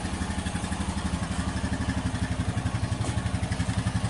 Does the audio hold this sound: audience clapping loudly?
no